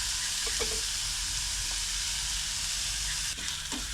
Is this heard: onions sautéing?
yes